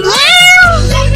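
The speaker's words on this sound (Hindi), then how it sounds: "ये तो बिल्ली के बच्चे की आवाज है।" A single high, drawn-out kitten meow, rising then falling in pitch, close and clear, ending with a low rumbling hum underneath.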